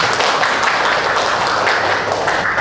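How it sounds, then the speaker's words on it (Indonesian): A class of students claps their hands together in a steady, loud wash of applause that fills the room without a break. "kalian disuruh tepuk tangan."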